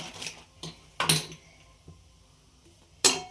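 A spoon clinks and scrapes against a metal pan while semolina (rava) is stirred and roasted for upma, giving a few sharp, close knocks between quieter stretches of shuffling.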